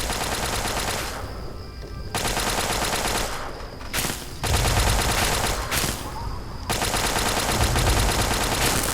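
Automatic turret in Fallout 3 (Broken Steel) trading fire with a soldier on a rooftop: sustained rapid gunfire bursts, loud and near, broken by short pauses and heavier booming impacts, with no talk.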